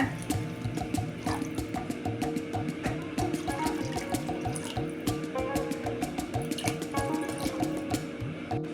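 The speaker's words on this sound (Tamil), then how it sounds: "4 டம்ளர் தண்ணி ஊற்றிக்கங்க" Water pours steadily into a pan for egg soup, a continuous bubbling, gurgling stream with no voices.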